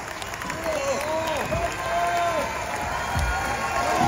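A large outdoor crowd at a cricket-ground rock concert claps and cheers for a philharmonic orchestra, a broad roar of applause and shouts with voices mixed in throughout.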